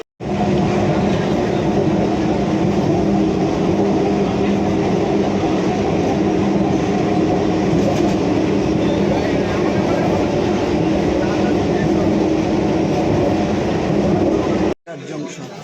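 A passenger train that has just pulled out of a station rumbles along continuously, with a loud, dense roar of wheels and carriages filling the whole stretch before cutting off abruptly near the end.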